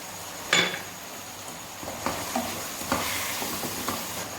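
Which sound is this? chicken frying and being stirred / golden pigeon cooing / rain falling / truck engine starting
chicken frying and being stirred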